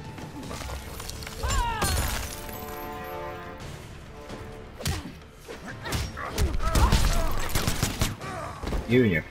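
Gunfire rings out in the fighting video game Mortal Kombat X, a rapid burst of shots mixed with heavy thuds and crashes. Game effects fill the background throughout.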